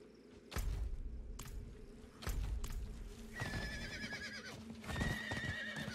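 A horse whinnies twice with a bright, shaky neigh, mixed with heavy thuds and clip-clop hoofbeats in the game Diablo IV.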